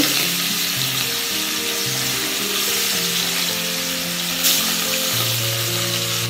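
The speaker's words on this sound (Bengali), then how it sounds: "মাছগুলো একটু কড়া করে ভেজে নিতে হবে।" Fish frying crisp in plenty of oil in a pan over a low-to-medium gas flame, a loud, continuous close-up sizzle with a faint low hum beneath and no speech.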